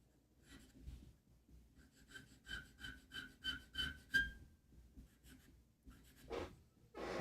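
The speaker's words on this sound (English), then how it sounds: "I'm going to find a pencil and I'm going to sign it" A pencil scratches across paper while an artist signs a finished drawing of a Rumely Oil Pull tractor, giving a quiet, close series of short rhythmic strokes with a brief pause between bursts.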